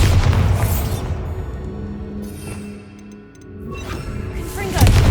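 A Bombarda blasting spell goes off in Hogwarts Legacy, a loud, deep booming explosion that rolls on for several seconds, dips briefly, then swells again with another heavy burst near the end.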